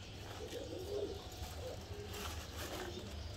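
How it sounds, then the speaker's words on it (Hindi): Soft pigeon cooing in a steady low murmur, fairly faint, with a constant background hum and no talking. "ये लाल पड़ी कबूतर है"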